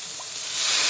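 Spoonful of cherry wine hitting a hot pan with Mongolian pork, a loud steady hiss and sizzle that swells slightly over a brief second.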